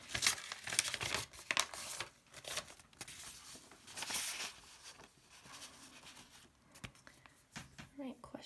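Sheets of paper handled and crinkled during a tutoring session, with repeated rustling, crumpling and sliding bursts close by, interrupted by brief sharp scraping sounds.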